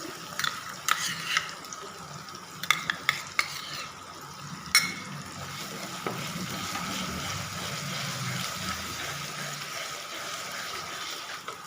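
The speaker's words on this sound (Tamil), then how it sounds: "இந்த டைமில் நம்ம எடுத்து வச்சு இஞ்சி பூண்டு பேஸ்ட் போட்டுக்கலாம்" Ginger garlic paste fries in oil for a chicken gravy, giving a steady close sizzle. A few sharp clinks and scrapes from stirring come early, then the frying hiss runs on alone.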